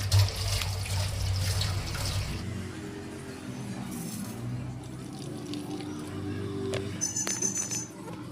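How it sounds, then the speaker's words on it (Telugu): Tap water runs steadily over a white straining cloth being washed by hand in a kitchen sink, with splashing and a few small clinks, close and fairly loud throughout. "దీన్ని ఒకసారి అయితే ఇలా వాష్ చేసేసుకుంటున్నాను"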